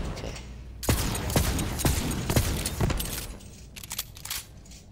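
A pistol fired in the video game Borderlands 3: several sharp, separate shots spaced about half a second apart, followed by a few lighter cracks near the end, with no talk over them.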